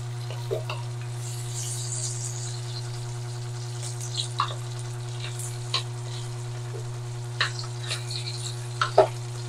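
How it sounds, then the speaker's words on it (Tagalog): A spatula stirs and presses tomatoes in a pan of sautéing chicken, giving a steady low sizzle with scattered scrapes and taps against the pan. "para kumatas na yung ating kamatis gamit itong spatula natin"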